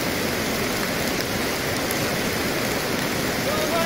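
Heavy rain and a fast, choppy river current during a boat trip upriver, a dense steady roar of water and rainfall filling the whole clip at close range.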